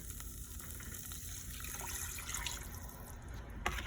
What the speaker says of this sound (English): I'm gonna go ahead and add our water.